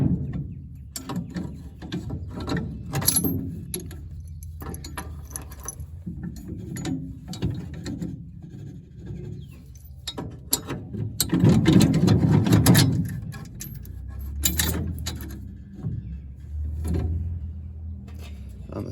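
Ratchet turning a nut on a New Holland 311 square baler during bearing cap work, giving irregular clicking and clanking mechanical sounds nearby with scattered handling noise and no speech.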